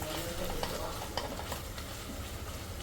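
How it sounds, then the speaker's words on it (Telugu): Ginger garlic paste fries and sizzles in a pan for vegetable rice, a steady close hiss broken by scraping stirring strokes, with no talk. "సో ఇదైతే జింజర్ గార్లిక్ పేస్ట్ స్మెల్ పోయే వరకు అయితే వేపుకోవాలి."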